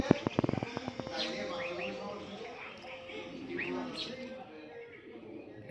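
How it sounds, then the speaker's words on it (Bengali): Pigeons at a small farm that also keeps ducks and chickens, with a few sharp knocks at the start, then soft cooing and chirping mixed under a person talking nearby. "এই কবুতরটা আমার কাছে ভালো লাগে"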